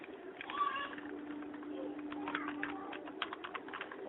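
A command is typed into the AutoCAD command bar on a computer keyboard, with soft, rapid clicking keystrokes in clusters, quiet and near, over a faint steady hum.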